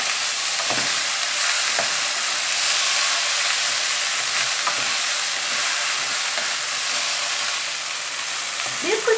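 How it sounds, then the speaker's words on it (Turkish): Food mixture being stirred in a cooking pot over heat, with a steady sizzle and hiss throughout and occasional scraping stirs, close and fairly loud. "Ve iyice karıştırıyoruz"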